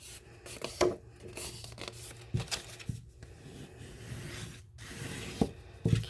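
A tool burnishes fold lines on paper card stock, giving soft, close scraping and rubbing strokes with a few sharper taps, faint and intermittent.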